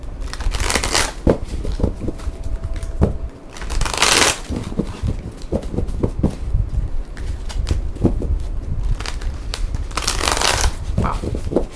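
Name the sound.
shuffling cards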